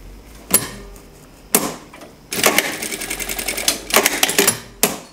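A sewing machine stitches a blouse in several separate bursts, loud and close, with short pauses between runs and a longer continuous run near the middle.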